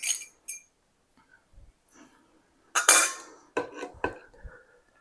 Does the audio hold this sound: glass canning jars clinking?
yes